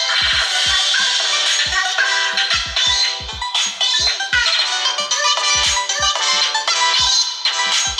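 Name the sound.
ringtone played through the Aoro A6 phone speaker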